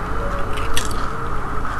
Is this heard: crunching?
yes